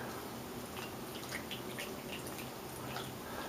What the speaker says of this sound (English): You pour your drink right over it.